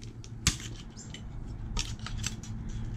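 Wire cutters snip an old computer fan free, one sharp close click followed by a few lighter clipping and rattling sounds, brief and alone.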